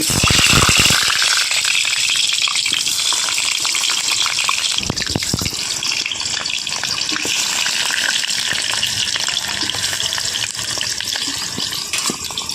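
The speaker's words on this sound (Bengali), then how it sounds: "তেল গরম হয়ে গিয়েছে, আমি এবার আলুগুলো কড়াইতে দিয়ে দেবো।" Potatoes hiss and sizzle loudly in hot oil in a karahi, a continuous bubbling roar after a few sharp clatters as pieces go into the pan.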